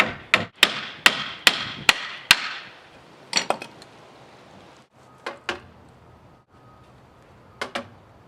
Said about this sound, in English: you can use a block of wood and a hammer.